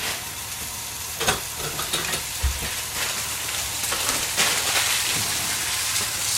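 Frozen food dropped into a preheated hot pan sizzles and fries with a dense, steady crackling hiss, punctuated by a few louder spits and pops, close up and without speech.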